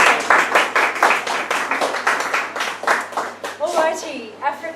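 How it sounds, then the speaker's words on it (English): An audience claps in a sustained round of applause for an event organiser at an evening gathering. The clapping is dense and steady, with voices and cheering rising near the end. "if we could just give June a round of applause for putting everything together tonight"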